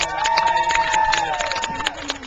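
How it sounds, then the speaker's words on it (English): A studio audience at a Wheel of Fortune tryout applauds and cheers as contestants are introduced, producing a dense, continuous wash of clapping with a tonal voice running through it. "Give them a round of applause."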